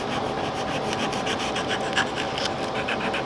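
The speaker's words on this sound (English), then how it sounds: "I just take this point and I rub gently in the area that would become the center" A metal point rubs gently across the painted wood of a tool chest to weather the finish, giving a steady, close, scratchy rasp that runs unbroken without talk.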